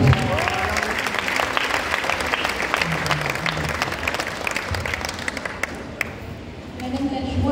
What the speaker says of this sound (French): messieurs, dames, veuillez l'applaudir comme il se doit